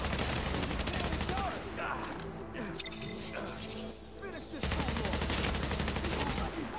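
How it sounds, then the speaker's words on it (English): Gunfire aimed at the player in Tom Clancy's The Division crackles in dense bursts through most of the stretch, easing briefly in the middle before resuming, with a voice speaking over the shooting. "Who the fuck is over here shooting at me?"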